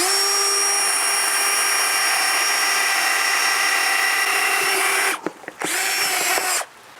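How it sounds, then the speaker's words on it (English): A DeWalt cordless drill on a battery adapter whines at high speed drilling a hole, a loud continuous motor drone that cuts off briefly, restarts, then stops again. "here's the drill with the battery adapter and the battery, and we're going to make a hole here"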